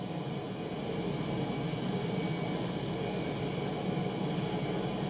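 Panavia Tornado jet engine in the War Thunder video game during a landing approach with throttle being lowered, a steady broadband roar with a low hum underneath, constant and fairly loud with no talking.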